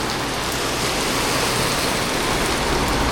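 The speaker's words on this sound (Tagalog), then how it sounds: "Nabutan pa ng ulan." Rain pours steadily while riding in a tuktuk, a dense, loud, unbroken hiss of drops that fills the whole stretch with no talk over it.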